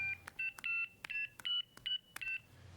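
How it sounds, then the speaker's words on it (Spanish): A mobile phone number is dialed as a sound effect: a rapid series of about eight clear electronic keypad tones, each short and evenly spaced, ringing out alone with no voices. "Transcribió los dígitos al celular y marcó."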